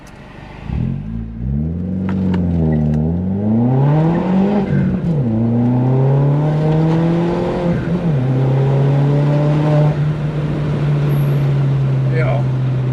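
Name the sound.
VW Polo 9N3 GTI accelerating with turbo flutter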